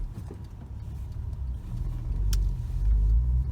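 A Porsche 911 Carrera 997.2 driving in busy town traffic, a steady low engine and road rumble from inside the car that swells louder toward the end, with a brief high tick partway through and no talking.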